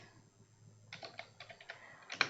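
Keys clatter on a computer keyboard as a database query is typed, a run of quick, quiet clicks starting about a second in and ending with a louder burst of keystrokes.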